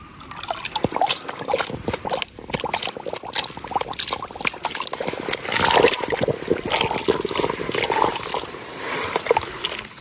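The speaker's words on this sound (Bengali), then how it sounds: "এই বালিটারে এই পরিষ্কার পানি দিয়ে একটু ধুয়ে নিয়াম" Sand being rinsed with clean water: continuous trickling, splashing and sloshing of water with dripping, close and fairly loud throughout.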